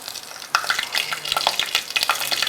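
Whole spices, cinnamon sticks and cloves, hit hot oil for a vegetable biryani, giving a close, crackling sizzle that starts abruptly and keeps spitting and popping steadily.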